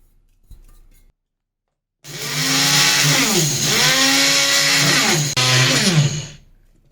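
An electric grinder whirs steadily for several seconds as it grinds roasted spices into a powder for a meat dish. The motor hum stays loud and continuous, with a brief dip before it runs on again, and a faint click comes first.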